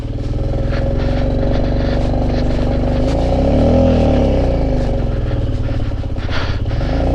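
A fully loaded motorcycle climbs uphill in the early morning near Chicham, its engine droning loud and steady throughout with a rising surge of revs in the middle.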